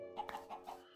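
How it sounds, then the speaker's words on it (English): A chicken in the Minecraft game Sky Factory 3 gives a few quiet, quick clucks in a short burst, faint and alone. "Thank you, chicken."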